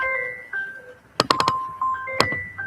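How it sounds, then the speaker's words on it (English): A landline telephone rings at a workbench where locks are being taken apart, with an electronic ring whose short bursts come in a quick cluster, then return after a pause, close and fairly loud, with no talk over it. "and that's the phone."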